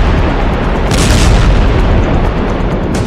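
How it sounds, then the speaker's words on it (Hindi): A bomb explosion at night gives a loud, heavy boom that fills the whole short stretch with dense roaring rumble, swelling briefly twice, with no voices. "ऐसा धमाका होता है।"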